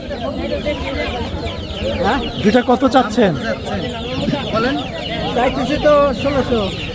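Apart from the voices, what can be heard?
chickens clucking at market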